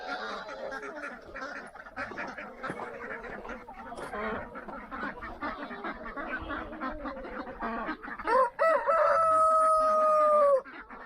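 A rooster crows loudly near the end, its long call rising and holding, after several seconds of clucking and scattered fowl noises.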